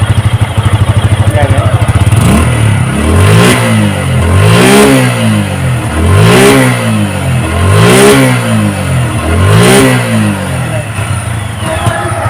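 A used 2024 Suzuki Gixxer SF FI ABS motorcycle with about 3,400 km is revved through its exhaust: a brief idle, then about five loud throttle blips that each rise and fall in a regular, close rhythm.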